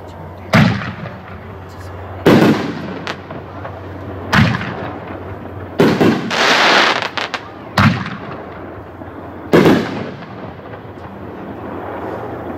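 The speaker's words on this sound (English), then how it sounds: "Next, we have a new item for 2024, another 60-gram artillery kit, 5-inch shells, case packing 4/24. This is Independence Artillery." Six loud booms from 5-inch artillery shell fireworks in a 60-gram kit, fired at steady intervals of about two seconds, each a sharp launch or burst followed by a rolling crackle and echo outdoors.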